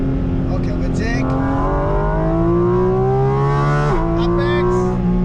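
A Porsche GT4 RS engine on the Nordschleife climbs steadily in pitch under hard acceleration, then drops briefly at a gear change before pulling again. It is loud and continuous while a voice gives driving instructions over it.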